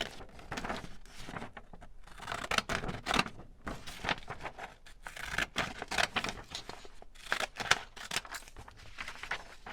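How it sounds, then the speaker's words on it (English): Scissors cutting out paper pieces for decorating a journal: close, quiet, irregular snips and rustles that repeat steadily throughout, with no talk. "So I'm going to cut just them out."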